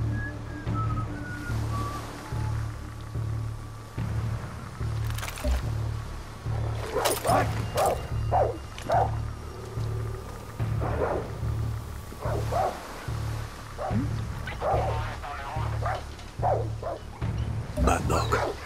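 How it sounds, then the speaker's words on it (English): Dog in Far Cry 6 game, repeated snarling barks and growls in irregular bursts over a low droning game soundscape, fairly close, with a voice speaking at times. "Bad dog."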